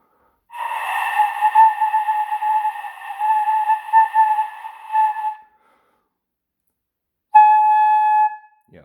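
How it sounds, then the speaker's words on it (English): Flute headjoint blown with too much air passing over the hole, producing a breathy, airy tone held for about five seconds, then a short clearer note after a pause, close and solo. "If you're blowing too much out, so too much air is going over, you're going to get an airy sound."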